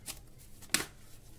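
Tarot cards shuffled close by: a faint quick riffle, then a sharper louder flutter of cards, with quiet gaps around them.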